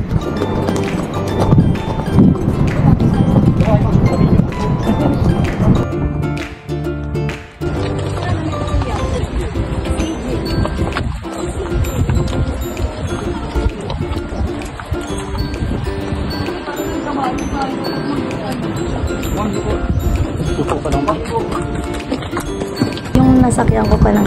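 Horse hooves clip-clop in a quick, uneven rhythm during a tourist horse ride at the Kapurpurawan Rock Formation, with people talking over the hoofbeats throughout.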